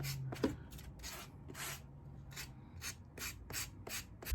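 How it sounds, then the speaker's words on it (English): A sanding block scrapes back and forth across drywall edges in repeated short strokes, close and fairly quiet, with a low hum underneath. "We can take our sanding block and fine tune the edges here."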